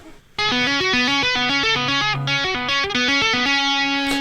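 Rapid tapped electric guitar notes from a track in a fast, repeating pattern, bright and processed with effects, played steadily without any talking.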